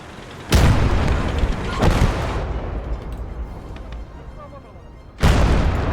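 Mounted machine gun and heavy weapon fire in the war video game Motherland: two loud, sharp booming blasts several seconds apart, each trailing off into a rumbling decay, with a fainter report between them.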